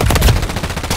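Gunfire in Warzone on Rebirth Island: a rapid, loud burst of automatic shots, close and dense, filling the whole second.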